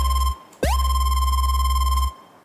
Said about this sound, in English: This'll be bass squaring from Dubstep Electro 2.